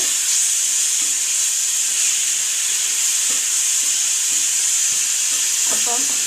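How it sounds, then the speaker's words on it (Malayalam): Tamarind water poured into a hot pan for bitter gourd theeyal sizzles and hisses steadily, a loud continuous frying crackle with a brief stirring clink near the end. "പുളിവെള്ളം നന്നായിട്ട് ഒഴിച്ചു വെച്ചിട്ടുണ്ട്"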